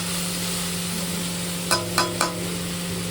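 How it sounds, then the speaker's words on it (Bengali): Teasel gourd and potato pieces fry in a pan with a steady, close sizzle, broken by three quick utensil taps or scrapes near the end. "এবারে ভালো করে লাল লাল করে ভেজে নেব কাঁকড় আলুটা"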